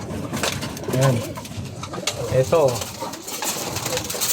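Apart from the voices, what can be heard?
racing pigeons cooing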